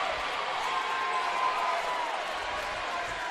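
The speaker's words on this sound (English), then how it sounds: "And crowd getting loud here" Crowd at a university volleyball match, a steady, fairly loud roar of voices and cheering that holds for a few seconds with a commentator talking over it.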